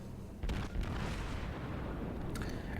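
The battleship Tirpitz fires its main guns in World of Warships, a heavy booming salvo that rolls into a long rumbling tail, followed by a sharper crack near the end.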